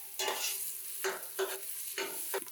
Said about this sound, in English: we're going to stir fry this up until everything gets fragrant